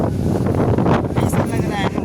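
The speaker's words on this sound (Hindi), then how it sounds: "हवा चल रहा है" Wind gusting outdoors in a village, a steady broadband rush buffeting close against the phone microphone, with someone speaking under it throughout.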